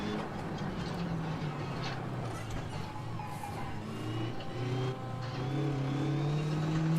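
Rally car engine in the racing game Assetto Corsa Rally drones steadily and loudly, with pitch rising and falling through gear changes over a constant rumble, and no voices.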